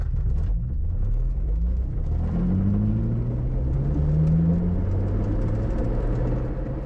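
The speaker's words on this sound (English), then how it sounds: "You gotta hear these motors at low speeds." Electric motors of a small foam car driving at low speed, a steady low whir and rumble with rising and falling tones, continuous and close throughout.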